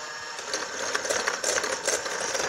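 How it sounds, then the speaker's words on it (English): Egg yolks are beaten until pale with an electric mixer, producing a continuous close whirring motor buzz with a rattling, slightly pulsing texture as the beaters work through the mixture. "Just whipping some air into these egg yolks"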